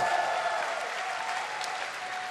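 A large audience at the BlizzCon 2011 GSL Grand Final cheers and applauds in a loud, steady roar that holds for the full stretch, with no break in the noise.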